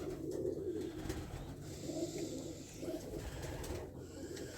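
Pigeons coo softly in repeated low, throaty phrases against a steady background hum, with no talking.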